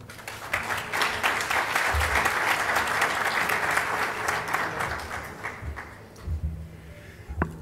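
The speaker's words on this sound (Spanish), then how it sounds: "Recibámosle con un fuerte aplauso." An audience at a Panama panel on corruption breaks into strong, sustained applause that swells, holds for several seconds, then thins out to a few scattered claps.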